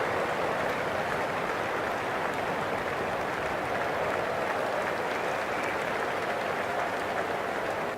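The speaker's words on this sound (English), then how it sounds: "a light applause from the crowd as both sides wander back to the pavilion" Light, steady applause from a cricket crowd at a Test match as the players head off for lunch, a soft distant patter of many hands holding an even level throughout.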